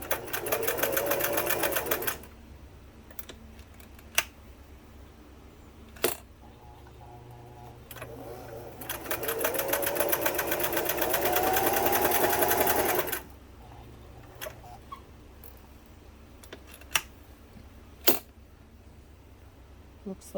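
A Singer 328k sewing machine stitches its widest zigzag in two long runs of rapid rhythmic whirring, separated by quieter gaps with isolated clicks and knocks.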